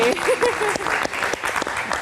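Light clapping from a studio audience of about four people, close and brisk, briefly overlapped by a voice at the start.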